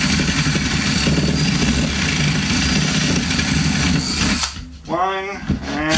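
A power drill runs steadily at high speed for several seconds, driving into a wooden drum shell for a tom mount, then stops as a person begins talking close by.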